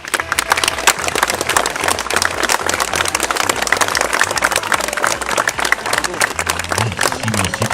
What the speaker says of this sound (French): vos applaudissements sauront nous le dire